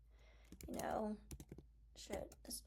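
Close, light clicking of computer keyboard keys as someone types in a Notion page, short bursts of taps mixed with clicks and a speaking voice.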